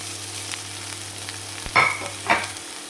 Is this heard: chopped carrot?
yes